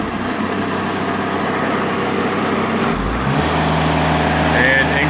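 A diesel engine on a Timberking sawmill runs steadily, then shifts pitch and load partway through as the throttle drops and the clutch engages, settling into a lower, heavier hum; the engine is loud and continuous.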